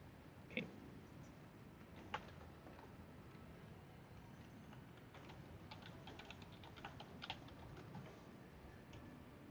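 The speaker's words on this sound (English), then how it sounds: "I was just not typing it in very well." Faint, sparse keystrokes on a computer keyboard, a few scattered clicks over a steady low background hum.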